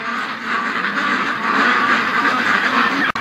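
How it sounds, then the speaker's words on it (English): A flock of ducks at a charity duck-raising setup quack steadily and loudly at close range, a continuous overlapping chatter during the evening rounds, ending in a brief click. "Oh, we got some ducks that are out."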